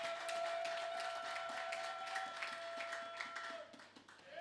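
Church congregation clapping together, a steady stream of many hands under a held tone, fading slightly near the end.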